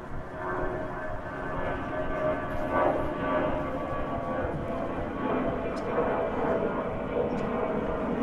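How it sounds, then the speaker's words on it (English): A steady low rumble of a jet aircraft from JFK Airport passing overhead at a distance in Meadowmere, Queens, broad and droning, holding at moderate level throughout. "there you see the airplane from JFK Airport."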